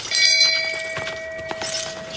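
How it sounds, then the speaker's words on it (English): A shame bell rings out in a podcast setting, a bright metallic tone that strikes and then lingers and fades over about two seconds, with a few faint knocks and rustles beneath it. "We need a shame bell."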